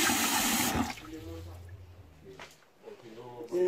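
Ogirisi, a fermented seasoning for egusi and vegetable soup, is washed in water: a loud burst of running, splashing water for the first second, then a voice talks over faint, quieter handling noises.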